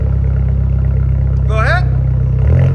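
A 2021 Mini Cooper S Clubman with a 2.0L turbo engine and straight-pipe exhaust idles loudly and close up, with a deep, steady burble and a brief higher tone near the end.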